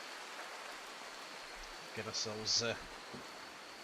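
Rain in the video game RimWorld makes a soft, steady hiss throughout, with someone briefly talking over it.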